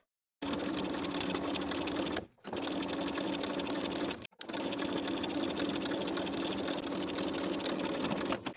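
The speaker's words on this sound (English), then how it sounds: "starting at one dot and ending at the other, backstitching to secure with a 5/8 inch seam allowance" A sewing machine stitches a lined coat's sleeve seam at a 5/8 inch allowance, with backstitching. It makes a loud, close, steady motor whir in three bursts, split by two brief pauses, with no talk over it.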